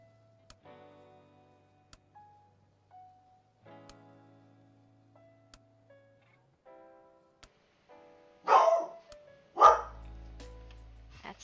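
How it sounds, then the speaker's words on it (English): Dogs barking in a game world, two loud close barks near the end after a stretch of quiet ticks and soft tones. "That's my dogs."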